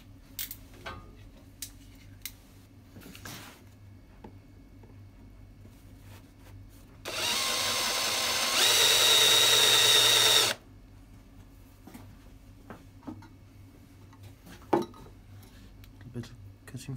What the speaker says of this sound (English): definitely recommend a step drill for can actually drill the holes, because it won't kind of try and pull itself